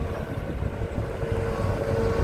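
Strong wind roars steadily into the microphone at an open reservoir dredging site beside a Hitachi ZX200-5G excavator, a constant low rumbling buffet with no speech.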